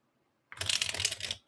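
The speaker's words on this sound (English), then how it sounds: "I want to make sure these cards are very well shuffled." One quick riffle shuffle of a deck of tarot cards, close up, a dense fluttering rattle lasting about a second, with no voices.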